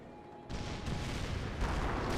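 Artillery barrage from the real-time strategy game Company of Heroes: a dense, continuous rumble of booming impacts that starts abruptly and keeps rolling without pause, loud and broadband.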